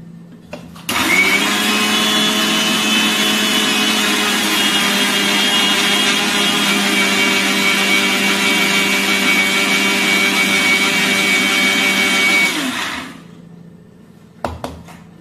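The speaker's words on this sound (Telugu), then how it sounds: "ఇలా మిక్సీ వేయడం అయిపోయిన తర్వాత తీసి చూస్తే చాలా మెత్తని ఫైన్ పౌడర్లా అయితే అవుతుంది." An electric mixer grinder powders sugar, baking soda and salt in its jar, running as one loud, steady whir for about twelve seconds before winding down and stopping.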